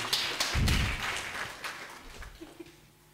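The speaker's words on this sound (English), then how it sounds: "Another clap also for this gentleman." Audience applause for an award recipient at a college convocation ceremony, a short burst of clapping with a few thumps that quickly tapers off.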